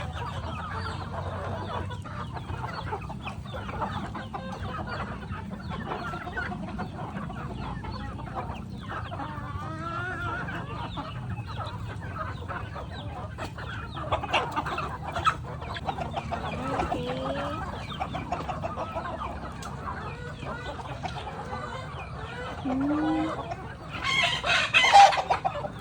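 Chickens cluck and a rooster crows on a farm where cattle are also kept, a busy mix of clucks and crowing calls with louder bursts near the end.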